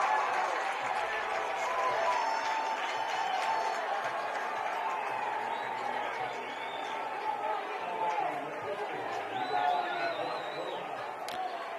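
A red-clad crowd at a high school 6A baseball championship game, American Fork vs. Skyridge, keeps up a steady murmur with light cheering and scattered claps under a commentator's voice.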